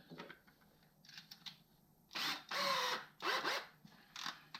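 An inexpensive cordless drill with its clutch set low drives pocket hole screws into a wooden joint made with a Kreg 720 Pro jig, giving several short, close whirring bursts separated by brief pauses.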